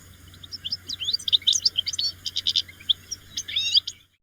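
Clear, varied thrush song from a single nearby bird in Central Europe: a run of bright whistled phrases and chirps in quick succession over a faint low hum, with no talk.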